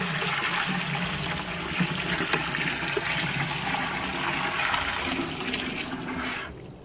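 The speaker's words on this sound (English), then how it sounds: "I'm just going to go ahead and pour it in here" Hot water pours steadily from a bucket into a hermit crab tank being set up with play sand and eco earth, a continuous close splashing rush that cuts off near the end.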